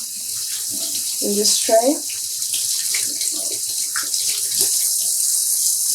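Tap water runs steadily into a sink as hands are rinsed clean of soda ash during home yarn dyeing, a constant hiss with brief splashes and a person speaking a few words over it.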